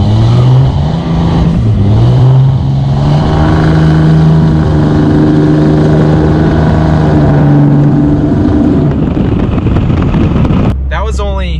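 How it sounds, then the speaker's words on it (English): Tuned diesel truck accelerating hard near full throttle, engine note climbing through gears with a shift dip, heard from inside the cab with wind roar, a voice briefly exclaiming at the end. "First, like kind of full throttle-ish acceleration."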